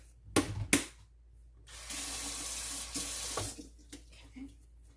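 Tap water runs steadily from a kitchen faucet to wet hands while shaping soft dough for Puerto Rican water bread, preceded by a couple of brief knocks and tapering into quieter splashes.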